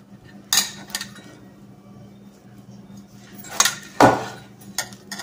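Oats, almond, banana and green jackfruit flour dough is mixed in a bowl, with a few sharp clinks and scrapes of utensil against the bowl standing out over a quiet background.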